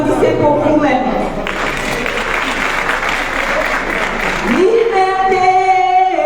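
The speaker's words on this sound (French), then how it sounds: "Nous voulons que vous applaudissez pour vous-même." Crowd at a Paris rally for Mali bursts into sustained applause lasting several seconds, loud and dense, with a voice talking over the start and again as the clapping fades at the end.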